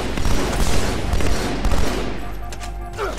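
Loud, rapid bursts of gunfire and explosive blasts in the Halo 2 Anniversary shooter game, dense and close for the first seconds before easing off.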